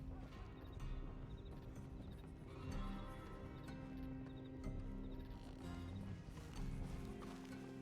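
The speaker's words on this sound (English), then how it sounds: "I hear a lot of fucking horses." Several horses clip-clop in Red Dead Redemption, with quick hoofbeats repeating in uneven clusters over a busy mix of game ambience and mechanical clatter at moderate distance.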